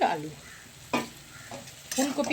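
Potato, with cauliflower waiting, sizzles in hot oil in a pan while a spatula stirs it, bringing sharp bursts of frying hiss between quieter crackling, close and clear, with no talk.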